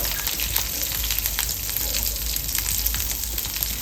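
Curry leaves tossed into hot oil while cooking stuffed squid, giving a loud, continuous crackling sizzle that stays even for a few seconds with no voices.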